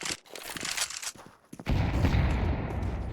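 A grenade blast and gunfire in a competitive Counter-Strike match: scattered sharp shots come first, then a loud, dense explosive roar takes over and holds to the end.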